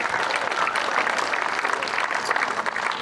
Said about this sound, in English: So a round of applause for those individuals.